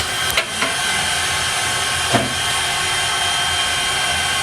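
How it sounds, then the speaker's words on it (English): Canadian-built 2-6-0 steam locomotive number 89 sits under servicing at the Strasburg Rail Road in early winter, giving off a loud, continuous close-up hiss of steam broken by a couple of brief knocks. "Locomotive 89 is a Canadian-built 260 steam locomotive"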